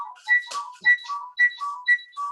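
A melodic phone ringtone plays a short bright phrase again and again in an even rhythm, clear and fairly close, with no voices over it.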